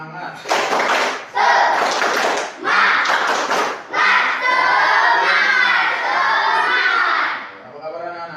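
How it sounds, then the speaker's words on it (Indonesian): Schoolchildren in a Year 5 class perform a rhythmic spirit clap, bursts of group clapping and chanted shouts in a patterned sequence, then a sustained sung or shouted group cry that fades out; loud and close, voices throughout. "Oke, tepuk semangat."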